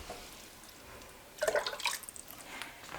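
Water poured into a pot of homemade chicken noodle soup that has partly boiled away, a short burst of splashing and dripping in the middle of an otherwise quiet kitchen.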